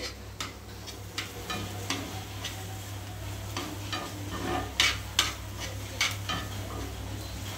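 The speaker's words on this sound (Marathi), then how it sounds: "शिजत आहे गाजर, अजून गाजर शिजून झालं नाही आहे।" Carrots cook in a pan for white sauce pasta, with a soft steady sizzle underneath and a run of light scraping stirs and spoon taps against the pan at an irregular pace, close by.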